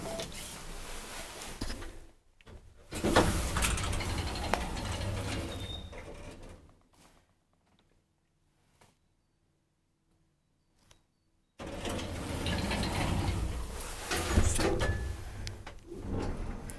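A 1999 Kone traction elevator in a Helsinki apartment building runs with a steady mechanical hum and rattle, goes nearly silent for several seconds, then resumes at moderate loudness.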